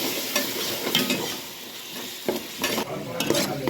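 Onion with ginger garlic paste sautéing in a pan for a crab curry, close frying sizzle broken by repeated spoon stirring and scraping strokes.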